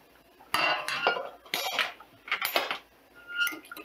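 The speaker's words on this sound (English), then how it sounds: "Give that a good stir." A spoon stirs a mixture with hot bacon fat in a pot, giving close, irregular metallic clinks and scrapes in several short bursts, with no talking.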